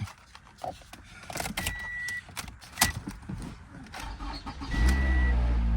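A diesel 2020 Chevrolet Silverado with 40k miles cranks and starts. Clicks and a brief electronic chime come first, then the engine catches near the end and settles into a loud, steady idle.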